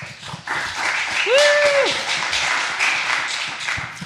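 Applause from an audience at a startup founders' pitch event, a broad wash of clapping with a brief whoop or whistle cutting through near the start, moderately loud throughout.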